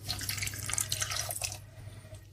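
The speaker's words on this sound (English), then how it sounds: "We're going to add 1/4 of a cup of water." Water poured into a Thanksgiving recipe dish makes a brief splashing, trickling pour lasting about a second and a half before fading to quiet, with no talk.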